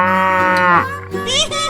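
A cartoon cow in a 3D animal video game gives one long, loud, close moo that slides down near its end, followed by a brief higher bleating tail, with no talking.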